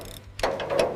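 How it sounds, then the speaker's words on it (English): Ratchet wrench torquing the top bolt on a white 1963 Volkswagen Beetle under restoration, giving a short burst of close, crisp clicking after a brief quiet moment. "Torquing the top bolt."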